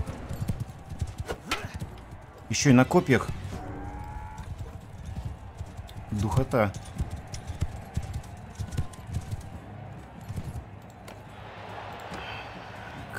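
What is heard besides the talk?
horses' hooves clip-clopping in Mount & Blade II: Bannerlord video game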